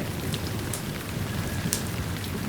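Steady rain pours down outdoors at night, a dense even hiss of drops striking surfaces with a few sharper splashes, moderately loud and with no voices.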